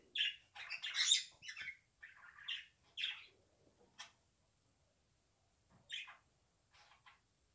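Pet budgies chirp and tweet close by in quick bright bursts, with short pauses between calls.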